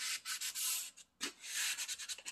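Edges of an MDF door being hand-sanded with 320 grit sandpaper make steady close rasping strokes in quick rhythmic bursts, with one short pause midway.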